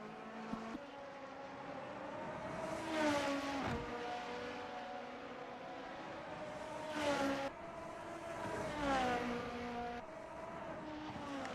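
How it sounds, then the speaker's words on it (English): Race car engines in a racing video game at Suzuka drone steadily with rising and falling pitch as cars accelerate and shift, several engine notes layered continuously at moderate distance with no talk. "You now have the ASMR of the engines to listen to."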